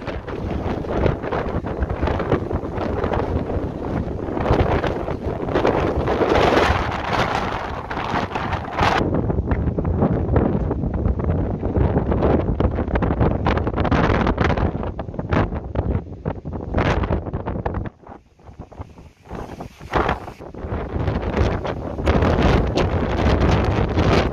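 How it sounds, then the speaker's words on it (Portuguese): Strong, continuous gusts of wind buffet the microphone in the mountains of Serra dos Órgãos National Park, Rio de Janeiro, roaring loudly almost throughout with a brief lull near the end. "Rajadas intensas de vento."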